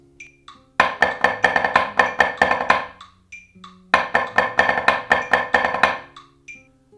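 A drum kit plays a lick of quarter-note triplets ending in triplet threes on the right hand, a rapid run of sharp, loud strokes played twice in two close bursts, with no talking.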